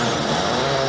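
Kimi Räikkönen's World Rally Car on snow at Rally Sweden, engine roaring loud and close as the tires scrabble for grip, a steady dense drone with no gaps.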